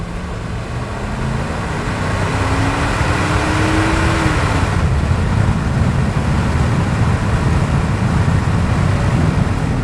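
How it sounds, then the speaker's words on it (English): A 1995 Ford F-150 4x4 XLT pickup with a 5.0 V8 accelerating harder on the road, a loud steady engine drone with rising pitch under continuous road and wind noise, heard from inside the cab. "A little heavier acceleration there, no stumbles, no complaints mechanically."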